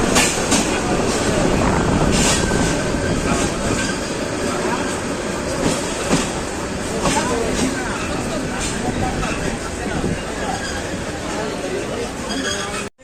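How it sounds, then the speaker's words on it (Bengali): Bijoy Express pulls into Bhairab railway station with a loud, continuous rumble of wagons and wheels, intermittent clanks and a few squealing notes, with voices in the busy station around it. "বিজয় এক্সপ্রেস ট্রেন এসে পৌঁছে গেল।"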